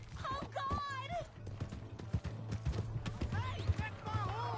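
Horse hooves in Red Dead Redemption 2 clop in a quick, uneven rhythm under loud shouting voices, with a horse nearby and hoofbeats partly masked by the talk.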